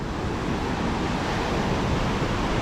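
Seawater washing in at the end of a seaside walkway in Panjim, Goa, a close, steady broadband roar of surf with wind noise on the microphone and no talking.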